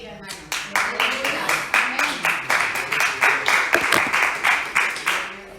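Church congregation claps in a steady, rhythmic beat, loud and close, with a few voices calling out over the clapping throughout.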